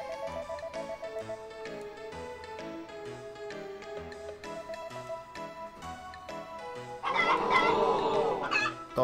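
Chicken clucking from the Harvest Moon: Back to Nature video game, short repeated clucks mixed with the game's steady background music, rising into a louder, busier burst near the end.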